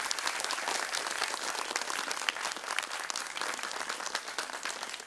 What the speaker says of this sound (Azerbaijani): Bir daha təbriklər və alqışlar sizin ünvanınıza